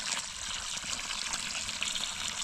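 Water poured steadily at home, likely onto a freshly replanted houseplant, giving a continuous hissing trickle at moderate level with no voices.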